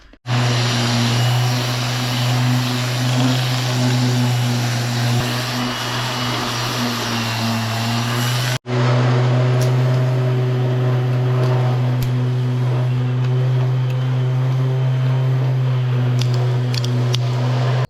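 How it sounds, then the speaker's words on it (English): A power sander works on a car wheel with a steady droning whine, cuts out sharply for an instant partway through, then starts again at the same level until the end. "I'm literally just gonna get the sander and just sand it"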